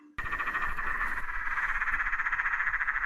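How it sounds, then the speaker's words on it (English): Peron's tree frog calling, a steady rapid cackling trill of closely spaced pulses that runs on without a break, close and fairly loud, with no other sound around it. "So this is the Perrin's tree frog."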